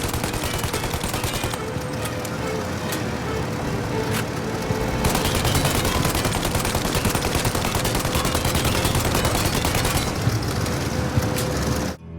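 Sustained gunfire in the video game Mafia as characters try to shoot out the engines of a plane, a dense, loud, continuous fusillade of rapid shots and booms over roughly twelve seconds with no speech over it.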